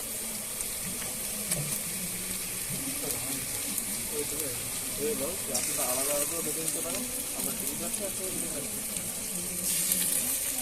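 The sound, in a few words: onions and cumin-ginger paste frying in a pan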